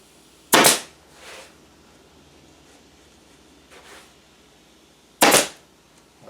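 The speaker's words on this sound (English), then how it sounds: "and we'll staple it again" A staple gun fires into burlap stretched over a dining chair seat during reupholstery: two loud, sharp snaps about five seconds apart, with a few faint knocks and rustles between them.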